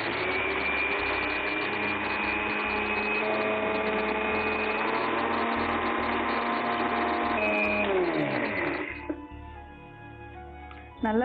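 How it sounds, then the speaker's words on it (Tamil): An electric mixer grinder jar blends flattened rice (aval), giving a loud steady motorized whir with a rattling, rhythmic chop. It then slows and stops, leaving faint clicks. "இப்போ நம்ம இந்த அவலை ஜார்ல போட்டு நல்லா அரைச்சு எடுத்துக்கலாம்"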